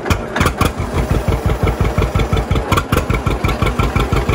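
A John Deere 630 tractor engine chugs in second gear while pulling cultivators, a loud, close, steady rhythmic putt-putt of firing pulses running evenly throughout.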